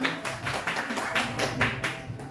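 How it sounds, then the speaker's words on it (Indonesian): A crowd clapping steadily, a dense patter of many hands that carries on throughout without pause. "Kita berikan tepuk tangan."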